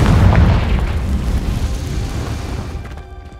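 A Confringo blasting spell explodes in Hogwarts Legacy: one loud, close boom with a rumbling burst that slowly fades over a few seconds, with no talk.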